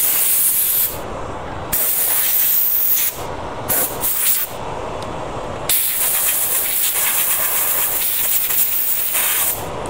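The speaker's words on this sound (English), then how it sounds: "And this inertia sander is working really well." An inertia sander works an Alumilite resin blank, giving a loud, close, broadband hissing whir that cuts out and restarts several times across the clip, with no talking.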